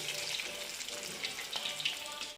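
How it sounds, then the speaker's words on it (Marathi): Fish coated in chicken tikka masala frying in hot oil, giving a close, steady sizzle with scattered crackles and pops throughout. No one talks. "आता आपण यांना फ्राय करून घेऊया व्यवस्थित फ्राय करून घेऊया"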